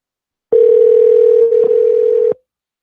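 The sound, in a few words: telephone dial tone while placing a call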